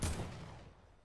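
A gunfire burst from a video game arena match: a loud, sharp crack with a rolling tail that fades over about a second, with no voices.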